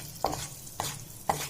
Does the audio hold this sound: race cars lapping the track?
no